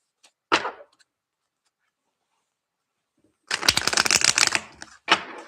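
Tarot cards being shuffled, a brief riffle followed after a pause by a longer, louder run of crisp flicking card sounds, close and alone with no talk.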